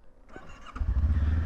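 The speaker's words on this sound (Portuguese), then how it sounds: "nota de escape. Não é muito alto, não, no entanto faz um barulhinho até giro" A dual-sport trail motorcycle on knobby tyres rides off-road, its exhaust note swelling into a deep, throaty rumble after a quiet start, close and steady with no talking.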